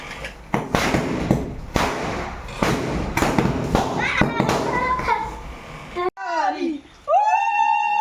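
Firecrackers bursting at an Assamese wedding celebration, a rapid string of sharp bangs and thuds close by, followed by children's voices and shouting as the bursts stop.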